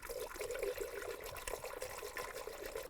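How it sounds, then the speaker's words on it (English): Coolant pours into the radiator of a 2002-2009 Chevy Trailblazer as a quiet, steady gurgling trickle of liquid with a faint burbling texture and no talk. "Now add your appropriate coolant and level."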